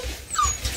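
A puppy whimpering in a few short, high, wavering whines with brief gaps between them, close and fairly loud.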